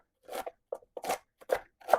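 A knife chops through crisp raw jicama for coleslaw, five sharp crunchy cuts in an uneven rhythm, close and distinct against near silence.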